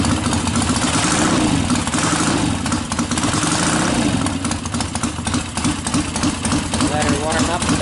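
An engine running on an engine break-in machine, holding a steady, loud, rough idle with continuous mechanical rumble, while someone talks over it.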